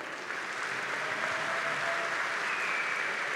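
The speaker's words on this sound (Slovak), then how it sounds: "Dámy a páni, to si zaslúži potlesk." An audience at a Slovak street-fighting event breaks into applause, a dense, even wash of clapping that swells slightly and holds steady, heard from within the crowd.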